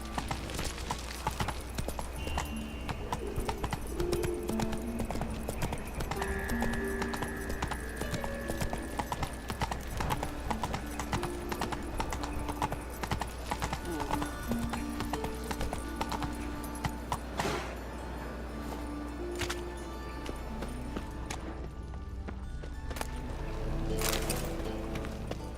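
Horse hooves clip-clop steadily and continuously in The Witcher 3, with a game music bed underneath and only a brief shouted voice.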